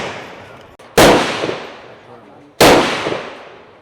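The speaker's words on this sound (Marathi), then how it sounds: "AK-47मध्ये तुम्ही गन फायर करू शकता" An AK-47 fires two single shots at a shooting range in Vietnam, each a sharp, loud crack followed by a long reverberating tail, spaced about a second and a half apart.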